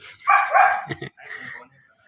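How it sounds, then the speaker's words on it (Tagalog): A dog barks nearby during a shih tzu stud breeding visit in Binmaley. It gives a few loud, close yapping barks in quick succession, then softer follow-up sounds. "yung tumatahol na yun"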